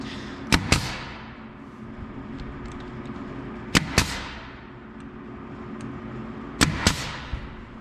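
An air nailer fires into wooden coffee table legs during assembly, giving three sharp paired pops spaced a few seconds apart over a low steady compressor-like hum.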